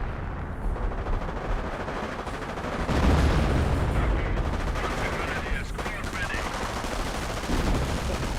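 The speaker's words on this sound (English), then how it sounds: "Wolfram Barrage firing somewhere over here." A Werfer rocket barrage fires in a Company of Heroes battle: a dense, rumbling roar of rapid launches and impacts that swells about a third of the way in and keeps going under steady battle noise.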